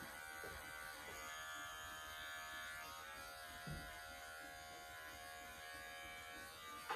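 Electric clippers buzz steadily throughout while grooming a dog's coat and paws, a continuous close hum with slight shifts in pitch as the blade moves through fur, no talking.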